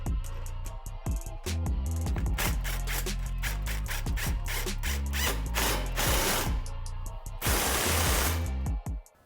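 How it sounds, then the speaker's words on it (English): A ratchet wrench tightens the factory clamp on a stainless steel axle-back exhaust muffler on a Ford Mustang, rapid loud clicking strokes in repeated bursts with short pauses, close and alone. "tighten the factory clamp to the muffler"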